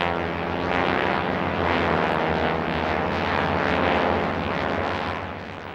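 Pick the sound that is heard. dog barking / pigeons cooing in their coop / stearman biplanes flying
stearman biplanes flying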